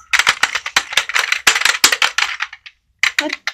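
A rapid series of sharp clicky keystrokes on a mechanical keyboard, close and crisp, typed in quick bursts with a brief pause before a few more presses.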